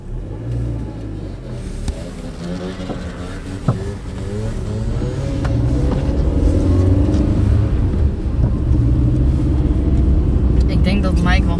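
A Zip 50cc scooter and a Hyundai Atos car accelerate together on a quiet road, a low engine rumble that grows steadily louder and fuller through the second half, with voices talking over the start.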